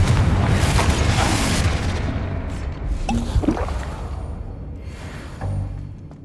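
In the Hogwarts Legacy video game, a Confringo spell goes off as a loud, rumbling fiery explosion that slowly fades over several seconds, with a few smaller pops and a deep thump near the end.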